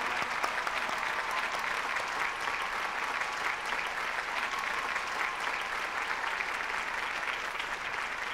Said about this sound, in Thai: ลูกก็ยืนรับเสียงปรบมือหน่อยครับ